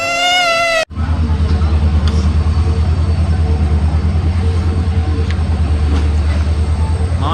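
A Vande Bharat express train rushes past close by with a loud, continuous roaring rumble, preceded by a brief tonal blast at the very start.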